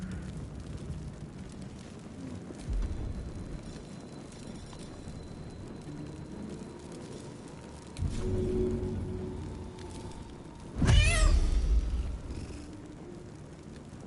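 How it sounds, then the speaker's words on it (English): A druid transformed into a cat in Baldur's Gate 3, with a soft purring rumble and game ambience, then a louder burst near the end that sweeps upward like a drawn-out meow. "Now we're a cat."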